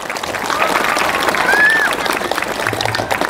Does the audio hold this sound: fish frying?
no